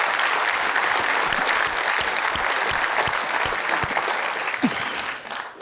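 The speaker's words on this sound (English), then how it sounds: "Let's give them all a big round of applause." A conference audience at a healthcare device industry event applauds loudly and steadily for several seconds, dense clapping that thins out slightly toward the end.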